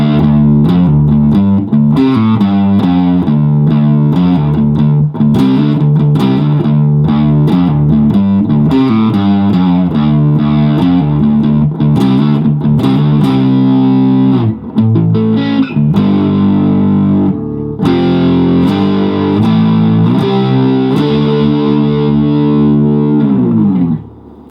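Electric guitar with heavy distortion playing hard rock riffs in drop D tuning, loud chugging low-string palm mutes and chord stabs in a steady driving rhythm, alone without talk, ending in a short pause.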